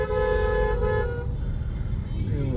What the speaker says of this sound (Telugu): హారన్ ఏం కొడుతారు హారన్లు